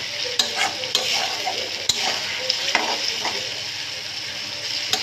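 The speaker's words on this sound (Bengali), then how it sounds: "আলুগুলো দিয়ে কিন্তু আমি নাড়াচাড়া করে নেবো ভালো করে" Potatoes stirred and frying in hot oil in a pan, with a steady sizzle and repeated scraping stir strokes close by, no voices.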